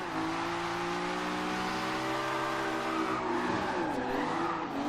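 A BMW E36 doing donuts in Forza Horizon 2 hums with a sustained engine whine and tire squeal, pitch sliding and wavering as the car spins, steady and close.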